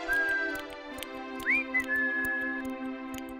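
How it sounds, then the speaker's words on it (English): A bright whistled tune glides and holds notes over steady background music, fairly close and clear. "He was busy oiling his screws and was whistling away."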